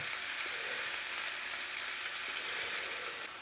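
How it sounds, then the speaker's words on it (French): Pork chops seasoned with salt and pepper sizzle as they brown in a frying pan, a steady, close hiss of hot fat crackling without pause and no voices over it. "je vais juste faire colorer la viande un peu"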